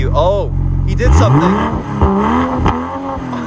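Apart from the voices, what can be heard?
2022 BMW M240i engine revving in sport mode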